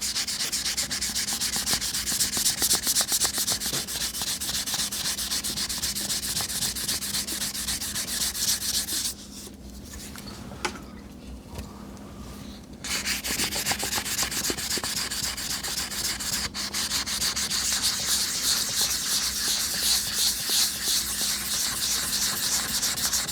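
Sandpaper rubs steadily over the body of a vintage Telstar telephone in a continuous loud, hissing scrape, pausing briefly midway before resuming with the same even rhythm.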